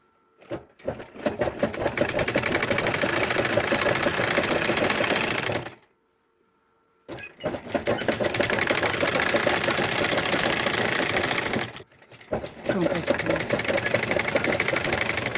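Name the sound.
sewing machine stitching fabric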